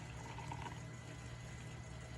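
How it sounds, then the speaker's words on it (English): Very hot water poured in a circular motion over an AeroPress coffee maker, a faint, steady trickling stream that stays soft and even throughout, no talk. "I've got some really hot water, and I'm just going to kind of pour in a circular fashion over this AeroPress."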